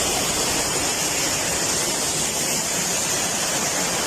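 Hidden falls in Bayugan City pour steadily in a dense, unbroken roar of rushing water, close by and even in level throughout, with no voices over it.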